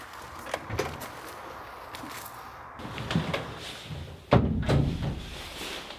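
The door of a garden shed with a one-piece translucent roof gives a few soft thumps and knocks, then one louder closing thud near the end, with quiet room noise in between.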